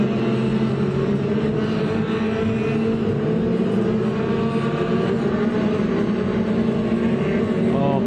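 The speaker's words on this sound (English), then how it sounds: "we are racing with the Formula 2 stock cars in there" Formula 2 stock cars racing around a short oval circuit, a steady dense roar of several engines blending together continuously at moderate distance, with no break in the noise.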